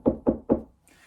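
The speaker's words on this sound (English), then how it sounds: "there was a knock at the woodcarver's door" Three evenly spaced, solid knocks land on a wooden woodcarver's door, close and clear, followed by a faint rustle.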